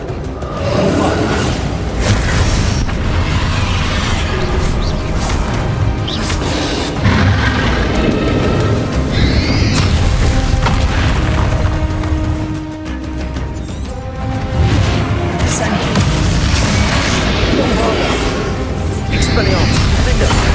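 Bombarda spell explosions in the Hogwarts Legacy video game, a dense wizard duel with repeated loud booms and crashing impacts over continuous battle noise, with voices shouting throughout.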